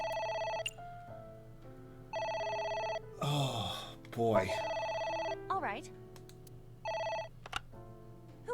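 Repeated electronic telephone rings from the video game AI: The Somnium Files sound in evenly spaced bursts, with someone talking and exclaiming between and over some of the rings.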